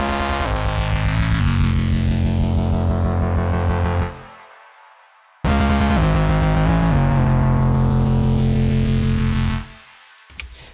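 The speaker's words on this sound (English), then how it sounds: "Then we've got some reverb." A very dry electronic music track with heavy distorted, effected synth layers, played loud in two long sweeping phrases with reverb added, each ending in a short decaying tail before near silence.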